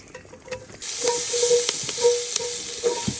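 Onion hits hot fat in a pan over a campfire at a winter campsite, and a loud sizzle bursts in suddenly, then holds steady with a few sharp stirring clicks and scrapes.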